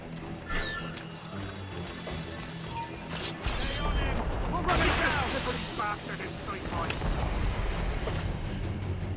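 Mortar fire in Assassin's Creed Rogue, heavy booming blasts and crashing impacts swelling into a loud sustained barrage midway, with game ambience and voices around it.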